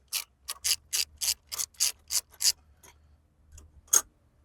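A Craftsman rotating ratchet is twisted, giving a quick series of about nine crisp, evenly spaced clicks, then a few fainter ticks and one last sharp click, close and alone.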